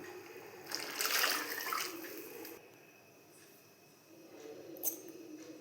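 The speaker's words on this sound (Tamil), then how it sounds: "அந்த தண்ணியை இதில் நான் ஆட் பண்ணிக்கிறேன்" Water pours and splashes into a cooking pot in two short bursts, moderately close, with a quieter gap between them.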